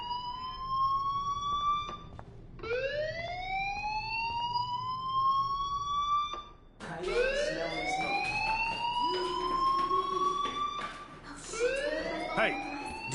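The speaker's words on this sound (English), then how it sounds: "Hey, do you hear that fire alarm?" Rising-and-falling electronic alarm tones in the video game Life is Strange, looping repeatedly and fairly loud, with a brief break before the wailing sweeps resume and overlap more densely.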